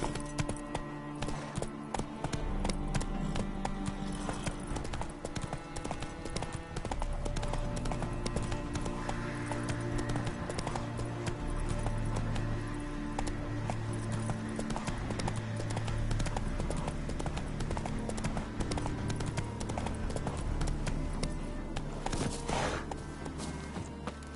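Roach the horse gallops steadily in a video game, with rapid rhythmic hoofbeats close and loud across the whole stretch, unbroken from start to finish.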